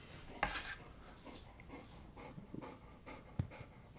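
A dog, called the mascot, pants and breathes near the microphone in a quiet room: soft rapid breaths with a few sharper huffs and faint background clatter.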